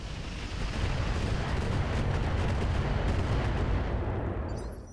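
Weapons fire on a Vulcan mech in the RogueTech mod of the BattleTech video game, a loud, dense, continuous roaring barrage that swells in and rolls on for several seconds before trailing off.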